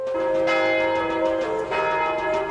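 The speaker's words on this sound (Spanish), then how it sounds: "No faltaron las campanas de miles de iglesias, en Francia sobre todo" Church bells ring out with rich, sustained metallic tones, two strikes blending into a lingering resonant hum, fairly loud and alone.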